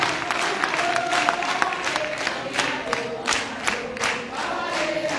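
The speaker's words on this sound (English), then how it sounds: "You can go ahead and give another round of applause." An audience at a regional summit applauds with dense, steady clapping and scattered cheers, heard from within the crowd throughout.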